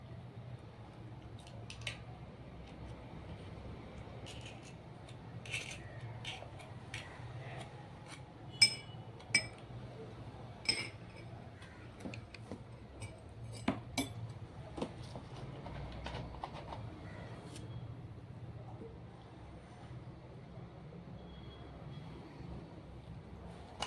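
Turmeric powder, egg and honey are stirred together in a bowl, producing faint, sparse clinks and taps of a spoon against the bowl over quiet background hiss.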